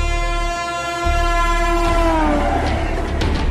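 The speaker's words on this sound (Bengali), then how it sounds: "ভিডিওতে দেখা যায় ফাঁকা লাইনের উপর দিয়ে আলো ঝলকানি আর হুইসেলের শব্দ।" A train whistle or horn sounds on an empty railway line as one long, loud, sustained harmonic blast. It bends downward near the end as the rumble of the rail continues underneath, and no one speaks.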